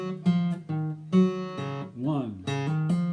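Electric guitar phrase of separate picked notes with legato hammer-ons and an open string. About eight distinct notes ring clearly in a steady rhythm, with a short slurred bend-like passage in the middle, played alone without talk.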